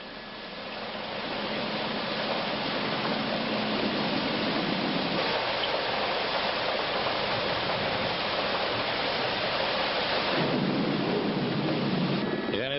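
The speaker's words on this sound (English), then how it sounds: "this whole area is still under rain and it's pretty well drenched" Steady heavy rain over Kuala Lumpur near Subang International Airport, a dense continuous hiss and roar heard from an aircraft coming in to land, with a constant low engine drone underneath; no distinct thunder claps stand out.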